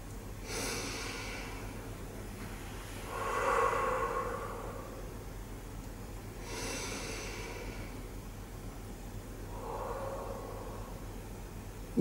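Slow, soft breaths in a diaphragmatic breathing exercise: two gentle inhales, each followed by a longer, slow exhale, quiet and close over a low steady hum.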